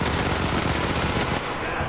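Rapid automatic Beretta gunfire in the Enlisted video game rattles continuously, loud and close, with dense repeated shots that ease off slightly at the very end.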